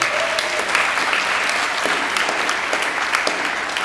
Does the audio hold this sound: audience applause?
yes